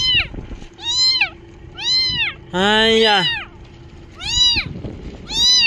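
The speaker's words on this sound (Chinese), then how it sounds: "哎呀，还有小猫" A small, rain-soaked stray kitten mews repeatedly, about five high, arching cries in a slow irregular rhythm, with one longer, fuller cry in the middle, loud and close. A person's brief exclamation and a steady low hum sit underneath.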